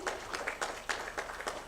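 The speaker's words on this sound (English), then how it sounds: "Can we have a warm applause" A few scattered, separate claps at a spectrum management conference as guests are thanked, sparse and uneven rather than a full ovation.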